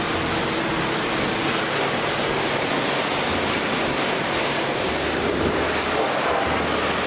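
Water sprays steadily onto a dirty car being rinsed during a wash, producing a continuous, loud, broadband hiss and splash with no breaks and no voices.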